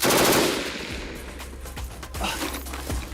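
Machine gun fire from frontline weapons in Ukraine rattles off in a loud opening burst, followed by quieter bursts and single echoing shots at a distance.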